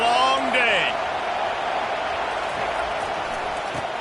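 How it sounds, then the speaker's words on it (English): A roaring stadium crowd in NCAA Football 25 sustains a broad, steady wash of noise, loud and continuous, with a few brief whistle-like tones at the start. "This crowd, full throat, splitting the eardrums and letting them know it's going to be a long day."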